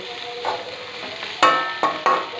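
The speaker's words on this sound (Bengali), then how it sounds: "পনিরটা এই যে আমি কষাচ্ছি, পনিরটা কষাচ্ছি" Paneer stir-fried in a pan with potato, carrot, capsicum, ginger, cumin and green chilli, giving a steady soft sizzle broken by a few sharp scraping clatters of a spatula against the pan.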